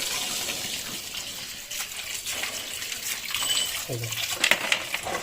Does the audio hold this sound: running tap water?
yes